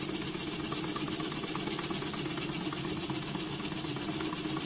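A small wobbler steam engine runs on compressed air, a steady rapid chuffing and mechanical rattle, close and even throughout.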